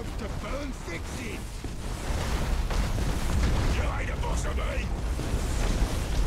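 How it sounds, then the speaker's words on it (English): Torpedo hits bursting in a space battle in Armada 2, booming dull explosions rumble beneath a continuous low roar, with someone talking over them. "I am getting torpedo hits at least."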